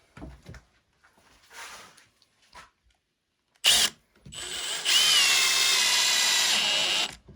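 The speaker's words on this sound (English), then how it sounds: "we're going to put these screws in here to anchor that" A power drill drives long screws into a recycled poly dockside ski and board rack, starting with a few short bursts and a sharp burst, then settling into a loud, sustained whine for about two seconds, close up.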